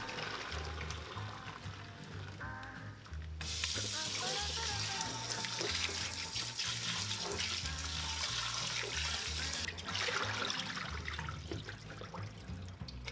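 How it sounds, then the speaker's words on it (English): Running water splashes steadily from a tap onto chicken bones in a sink, with louder gushing bursts midway and clattering handling sounds. "Discard the water and rinse the bones."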